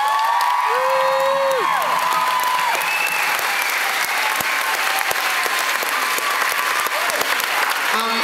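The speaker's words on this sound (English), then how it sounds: "Give him a round of applause." Concert audience at Town Hall in New York applauds a bass player, with loud, continuous clapping and scattered cheers and whoops, while some speech and tonal sounds run faintly underneath.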